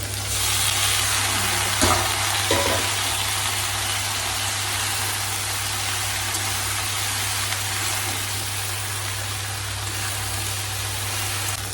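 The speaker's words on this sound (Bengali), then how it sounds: "এর মধ্যে দিয়ে দেবো কেটে রাখা লতিগুলো" Cut chilli stalks fry in a pan of hot oil, giving a steady, loud sizzle that fills the whole stretch. A couple of scraping stirs come near the start, and no one speaks.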